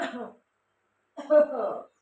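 A single short cough, close by, followed after a pause by a throat-clearing rasp.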